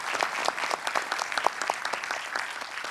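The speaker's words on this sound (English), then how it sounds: "give a round of applause to all the people that I volunteered to ask the questions" An audience at a data festival panel on AI applauds steadily, a dense wash of many hands clapping close and fairly loud throughout, with no voices over it.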